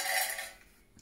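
Metal cooking vessels being handled, a brief bright clatter and rub of cookware that fades within a second, with no talking.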